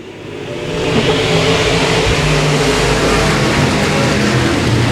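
Dirt track race cars at Boothill Speedway accelerate hard after a restart, a loud roar that swells within the first second and then holds as a sustained engine blare.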